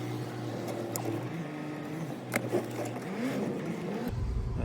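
A Mercedes C350 with an ABS fault drives on the road, its steady engine and road rumble continuous throughout, with brief knocks and a shift in tone near the end.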